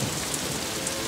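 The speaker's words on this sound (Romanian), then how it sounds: "Brusc a început să plouă." Sudden rain pours down in a steady, dense hiss of falling drops, loud and close and unbroken, with no voices.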